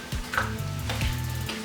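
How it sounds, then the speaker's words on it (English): A paddle stirring grain mash with rice hulls and Crystal 60 malt while brewing a pumpkin ale, a close, steady wet churning and sloshing with a low, droning hum beneath. "Just making sure those rice hulls are mixed in there good"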